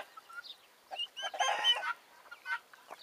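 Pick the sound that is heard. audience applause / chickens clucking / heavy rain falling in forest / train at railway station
chickens clucking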